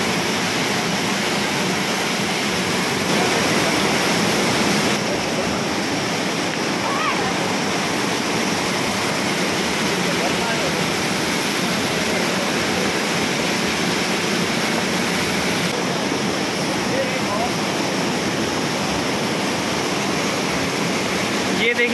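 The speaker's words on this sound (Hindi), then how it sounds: "ये शोर चेक करें पानी का, कितना ज़्यादा शोर है यहाँ पे, आवाज़ बहुत ज़्यादा है पानी का।" Loud, steady rushing of water from a large, dangerous canal in Lahore, a dense roar filling the whole clip with no break and no voices.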